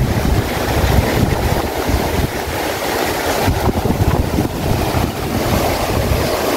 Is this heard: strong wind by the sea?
yes